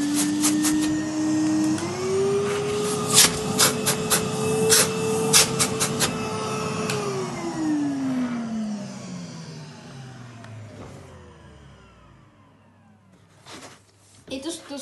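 A Numatic Hetty vacuum cleaner in poor condition runs loudly with a whining motor tone that rises, holds, then winds down as it switches off, with clattering noises over the top.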